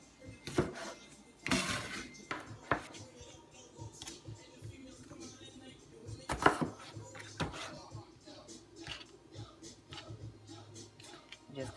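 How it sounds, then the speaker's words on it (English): A knife chops a bell pepper into big chunks on a board, irregular close thuds and taps with a few louder knocks, while a person talks quietly underneath. "Just continue chopping away."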